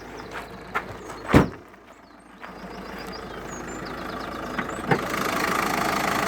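A 1.6 liter turbo diesel four-cylinder MPV engine runs steadily at idle with the hood up, a continuous low rumble broken by a few sharp knocks and clunks early on.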